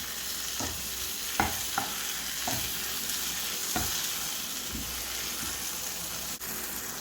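Mint, coriander and curry leaves sautéing in a pan, a soft continuous sizzle broken by several sharp scrapes and taps of a spoon stirring, close and fairly quiet.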